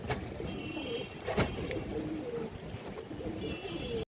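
A female Indian highflyer Kaldom pigeon coos softly in a low, repeated murmur, with a couple of sharp clicks and a faint background hiss.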